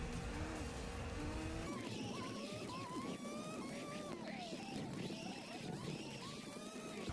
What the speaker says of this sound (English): Here again, sliding into the grass. Giving too much throttle.